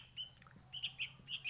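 Young sooty-headed bulbul (kutilang) chick, about one month old, giving soft, high chirps in short repeated bursts, faint and close.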